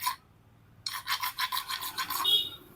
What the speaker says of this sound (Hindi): देखिए रेती का मदद से इसको पूरा घिस दिया